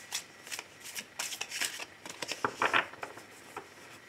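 A tarot card deck is shuffled and cut, giving close, rapid riffling and pattering bursts with a brighter flutter of cards partway through.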